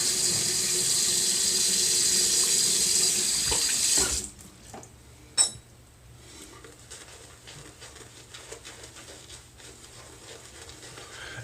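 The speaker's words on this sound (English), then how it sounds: "Let's get some more water on here." Water runs steadily from a tap into a sink during a wet shave for about four seconds, then cuts off, leaving a quiet room with a faint clink and small handling sounds.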